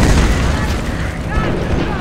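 Dense, loud battlefield gunfire and booming explosions from the video game Company of Heroes, in a modern combat setting, fill the whole clip as a continuous roar of shots.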